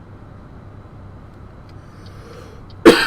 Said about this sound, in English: Again, I apologize for the coughs